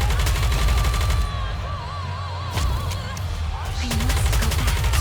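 Gunfire in the PC game Goddess of Victory: Nikke forms a dense, loud, continuous barrage of rapid shots throughout, layered with a music score and game effects.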